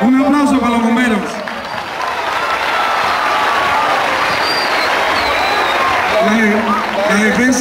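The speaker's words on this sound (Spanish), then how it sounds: "Un aplauso para los bomberos." A crowd at a children's day celebration in Pamplona claps and cheers steadily for the volunteer firefighters, loud and sustained, with someone speaking over it at the start and end.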